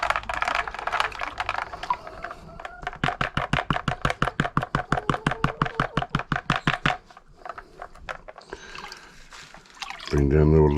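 Liquid being stirred and agitated in a vessel during gold recovery from flat packs, a steady series of rhythmic sloshing, dripping splashes close by, ending in a brief rougher rush of water.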